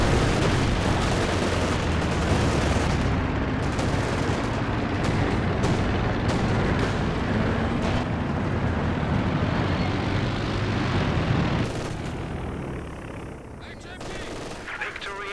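A Company of Heroes 2 battle fills the clip with a dense, nonstop din of gunfire and heavy blasts, consistent with 152mm artillery firing. The sound stays loud and steady, then thins slightly near the end.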